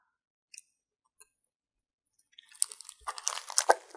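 Oreo Coca-Cola flavored cookie crunched close up, a couple of faint clicks first, then a burst of crisp crunching and chewing in the last second and a half.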